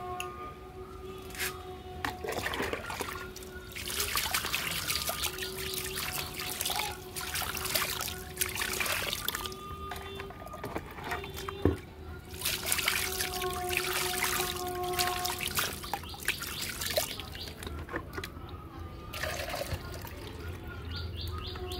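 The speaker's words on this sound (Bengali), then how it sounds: "এইভাবেই জল দিয়ে আমি ভরিয়ে দেবো, চারদিকটা পুরোটা ভরিয়ে দেবো" Water trickling and splashing as it is poured into a tub holding a potted lotus plant, a steady close dribble with faint bird chirps in the background.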